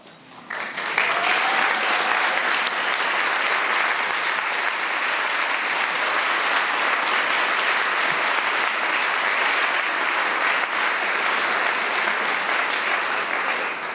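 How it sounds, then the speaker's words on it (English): Room full of people applauding city employees at a St. Paul city address, a loud, dense, sustained wash of clapping that swells in within the first second and holds steady for the rest. "please stand up so we can give you a round of applause"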